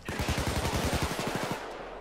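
Rapid automatic gunfire from the video game Payday 2, a fast, even burst of loud shots that runs for almost two seconds and then cuts off.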